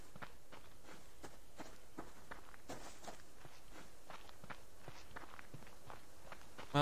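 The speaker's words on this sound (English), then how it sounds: "Thought I heard other footsteps." Footsteps in the survival game Subsistence, a steady run of crisp, evenly spaced steps at moderate loudness with no talk over them.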